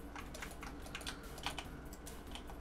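Computer keyboard keys clatter steadily in quick, uneven bursts while a game is played, close and fairly quiet, with no talking.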